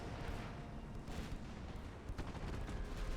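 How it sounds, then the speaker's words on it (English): Naval gunfire from a battleship in the Ultimate Admiral: Dreadnoughts naval combat game, heard as a continuous low rumbling salvo of big-gun fire with a sharper burst near the end, steady and fairly loud. "Oh, they fired another salvo."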